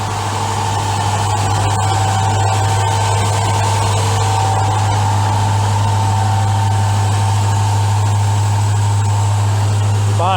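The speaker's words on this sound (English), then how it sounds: ".350 Chevy engine." A 1978 Chevy 1-ton 4x4 truck with a 350 engine idles after a cold start, giving a steady, loud, close rumble with a constant low drone that runs unbroken throughout.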